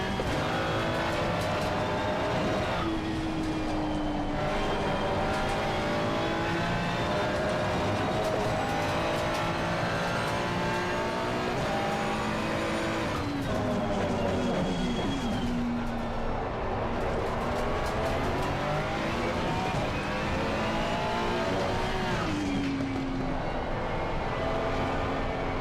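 Race car engines roar steadily in a racing video game, with continuous high revving, rising and falling pitch through gear changes, and occasional passes, loud and constant throughout with no pauses.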